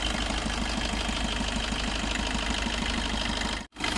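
Close, steady rumble of a 2019 Maruti Suzuki Dzire VDi diesel car engine idling with an even rhythmic thrum, briefly cutting out just before the end.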